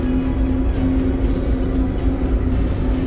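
Ship engine running after starting on a vessel bound for Bantayan Island, a loud steady low drone with a constant tonal hum, continuous throughout with no talk.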